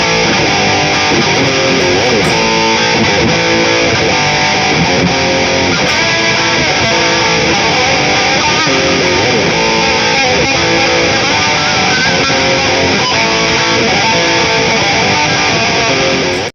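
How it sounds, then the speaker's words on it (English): A dense, muddy distorted guitar riff from a Boss RC-3 Loop Station loops continuously at a steady loud level, its tone squashed and smeared with heavy compression. "So it gets muddy, the distortion compresses the signal too much and it can't handle that."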